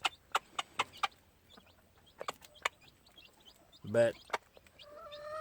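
A gamefowl hen scratching at her feed gives short, soft clucks in quick runs with pauses between them. The sounds are quiet and close, and a single spoken word cuts in briefly.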